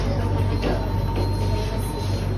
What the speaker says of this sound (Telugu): ఇది మోనో ట్రైన్.